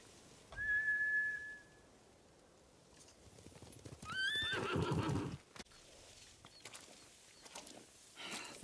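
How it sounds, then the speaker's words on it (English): Horses whinny and neigh in the video game Ghost of Tsushima, with a long rising whistle-like call, then clip-clop hooves and a burst of galloping noise; no talking. "Bastards scared off the horses."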